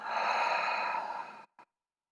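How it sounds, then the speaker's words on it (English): A slow, deep exhale during a meditation breathing exercise, a long soft airy breath lasting over a second, then a brief quieter puff of breath, close and alone in a quiet room. "take 3 to 5 deep breaths"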